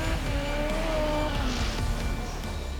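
A Group B rally car, a roughly 600-horsepower machine, roars past on a gravel stage with a loud, sustained engine note that rises and falls as it passes.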